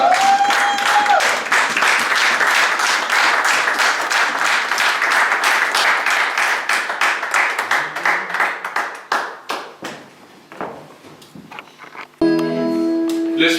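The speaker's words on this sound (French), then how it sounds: "Pendant qu'il avance, on acclame le Seigneur." A church congregation bursts into loud, sustained applause and clapping as a prophet walks forward, with a sung note at the start, then the clapping thins into scattered claps and fades before music cuts in.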